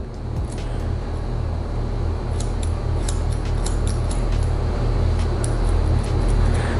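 Scissors trimming a woman's Korean-style mid-length hair into an A-line cut, with crisp, intermittent close snips over a steady low background hum and no talking.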